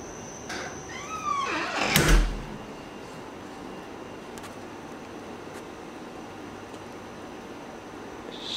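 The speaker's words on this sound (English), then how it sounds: "And close the door." An interior door in a fixer-upper house is pushed shut with a short scraping slide and a single solid thud. Faint, steady room hiss follows.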